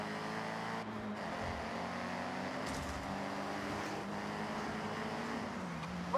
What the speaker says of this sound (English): The cars kind of sound like a toy. The engine sound, that is.